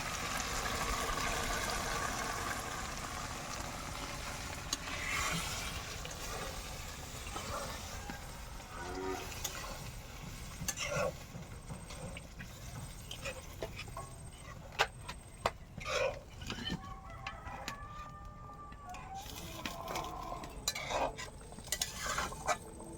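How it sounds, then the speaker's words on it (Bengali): A spoon stirs fish curry in a pan, producing repeated soft scraping and clinking close by, with occasional metallic taps and some low background noise. "একটু নাড়া করে দিয়ে জল দেবো"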